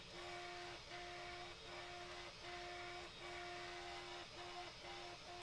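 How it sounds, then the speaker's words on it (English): A 3D printer runs loudly and steadily, its stepper motors whining in sustained tones that break into a regular stop-start pattern about every second, over a constant mechanical hiss. "is it just me or is the 3D printer like insanely loud right now?"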